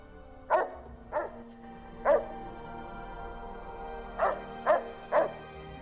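A dog bred from a lobotomite experiment in Fallout: New Vegas barks in short single yips, spaced irregularly, three early and three more near the end, over a quiet steady hum.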